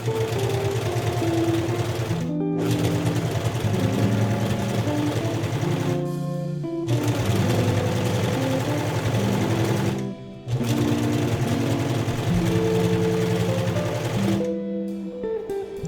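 A sewing machine stitches stretch fabric in steady mechanical bursts, its rapid whirring hum running for a few seconds at a time between short pauses, close and loud with no talking.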